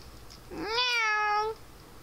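A person imitating a cat's meow, a single drawn-out, nasal, rising-then-falling mew lasting about a second, close and clear against quiet background.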